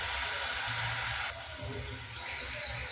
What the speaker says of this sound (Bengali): এবার খুব সামান্য পরিমাণে একটু জল দেব।